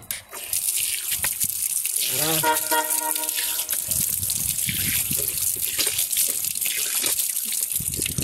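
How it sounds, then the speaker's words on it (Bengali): Water gushes from a hand-pumped tube-well tap at a railway station while someone splashes and washes their face, a steady close splashing stream with a brief gurgle of filling and a faint voice in the background. "এই টিপ কলের মধ্যে একটু মুখটা ধুয়ে নেই"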